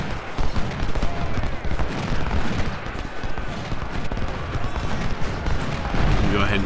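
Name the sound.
musket gunfire in video game Ultimate General: Civil War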